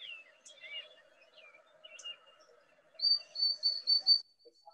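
Sparrow song: a few soft chirps and trills, then a louder run of high, clear repeated notes toward the end, fairly close in quiet surroundings.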